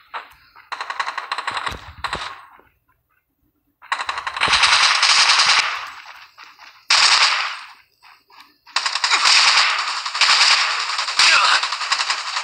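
Gunfire in the video game Rules of Survival: loud bursts of rapid automatic fire, several separate volleys with short pauses between them.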